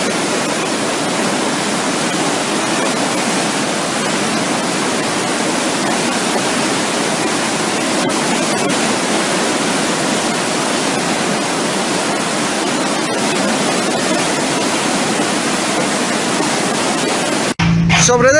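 The Huáscato river in Pénjamo rushes past in a dense, constant roar of loud broadband water noise that holds steady throughout with no break, ending abruptly at the very end.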